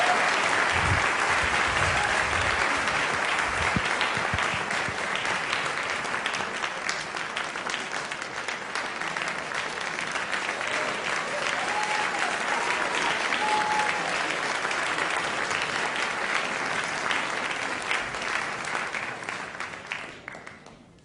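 Sustained audience applause from a large crowd at a staged talk event, loud and dense clapping filling the space for about twenty seconds before fading out at the end.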